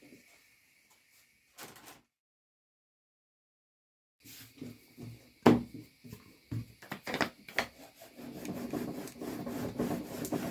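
A rolling pin presses and rolls out a square sheet of puff pastry dough for a Napoleon cake on a floured surface, making soft scattered rubs and thuds that grow into steady rolling strokes after a quiet pause.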